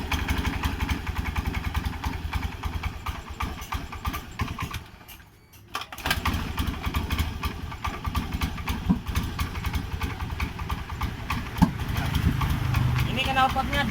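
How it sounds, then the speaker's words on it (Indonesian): A Honda Beat scooter with a faulty ECU and regulator runs with its exhaust popping and backfiring, giving uneven irregular bursts and sputters over a rough idle, close by, while people talk over it. "Ini knalpotnya dia meletup-meletup."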